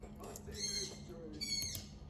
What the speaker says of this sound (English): This bird needs to shut the fuck up.